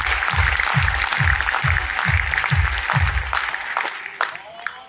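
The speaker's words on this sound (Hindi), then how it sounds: "उत्तर प्रदेश वाले हरियाणा वालों के लिए ढंग से तालियां बजाओ" Crowd at a motivational event in a large hall claps for the people from Haryana over a steady thumping bass beat. The applause thins out and the beat stops in the final second.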